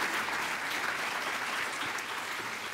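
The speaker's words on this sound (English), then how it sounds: "feel free to clap wildly" Steady, fairly faint applause from an audience at a poetry book award ceremony, with continuous dense clapping and no voices on top.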